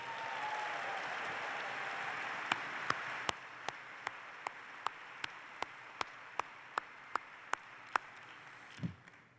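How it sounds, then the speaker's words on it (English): Faint crowd applause in a large convention hall at an AIPAC gathering, a soft even wash that thins after a couple of seconds while sharp regular ticks punctuate it to the end. "how about one more round of applause for our great, great Secretary of State"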